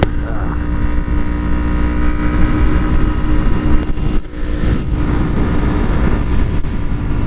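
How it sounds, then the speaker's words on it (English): A 2012 Kawasaki Ninja 250R, a 250cc motorcycle, riding along with a loud, steady exhaust drone and wind rush, close and continuous throughout. "That exhaust is loud."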